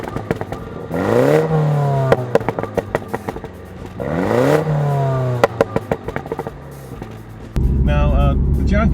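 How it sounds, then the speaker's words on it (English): A 2016 Mini Cooper John Cooper Works revs twice in sport mode, each rise followed by a string of sharp exhaust crackles and pops on lift-off, loud and close, before a steady engine drone. "if I put it in sport mode, I get that little kind of crackle and pop of the exhaust when I let off the gas"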